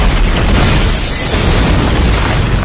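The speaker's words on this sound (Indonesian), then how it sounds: "ledakan pun terjadi" A loud, sustained explosive roar fills the whole stretch, a dense rumbling blast that stays heavy and broadband from start to finish.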